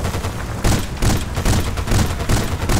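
Gunfire and explosions in the video game Battlefield: Bad Company 2, a dense, loud barrage of overlapping shots and booming blasts that pulses in waves for a few seconds.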